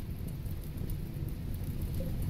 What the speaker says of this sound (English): It's raining now, that's going to help put out the fires, thank God.